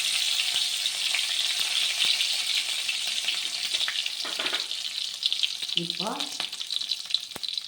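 Green chilies fry in hot oil in a pan with a steady, bright sizzle that runs throughout, while a voice speaks briefly over it near the end.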